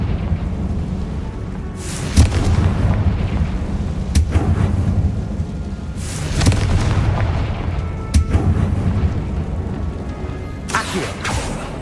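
Confringo fire spell explosions in Hogwarts Legacy, five heavy booming blasts spaced roughly two seconds apart, each a sharp crack swelling into a deep rumbling roar, loud and close inside a tall tomb room.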